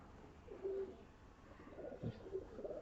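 Soft Malwai pigeon coos, a few low throaty calls spaced apart, close but quiet against a faint background.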